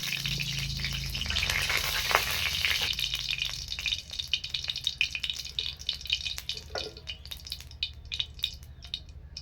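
Sugar added to hot mustard oil in a pan for a prawn kofta curry sizzles loudly at first, then settles into a thinner stream of sharp crackles and pops.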